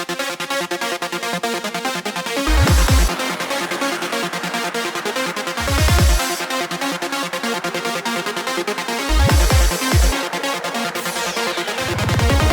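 Main break synth melody from a remix of a psytrance track, a bright layered lead playing a repeating pattern without kick drums, with short low bass thumps around the third, sixth and tenth seconds.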